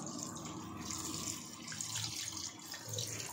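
Fish and chicken are washed under a running kitchen tap, a low, fairly faint rush of water into the sink with splashy surges as the pieces are handled and no voices.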